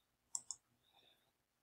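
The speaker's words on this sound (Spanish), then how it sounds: "Lo pego y clic en agregar y luego clic en listo." A computer mouse gives two quick, sharp clicks close together, close up and quiet, followed by faint low background noise.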